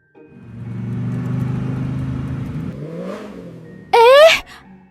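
A manual car pulls away in second gear on a quiet road, its engine droning low and steady, then easing as the clutch is worked, followed by a brief loud rising whine near the end.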